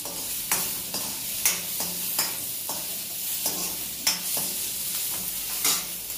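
Garlic frying in hot oil for a palak (spinach) curry, a steady sizzle with repeated stirring scrapes at irregular intervals, close and moderately loud, with no voices.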